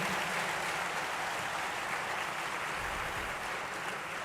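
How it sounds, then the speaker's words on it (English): Ceremony audience applauding an invited guest: dense, steady clapping from a large crowd fills the room without a break. "Please join me with a great round of applause"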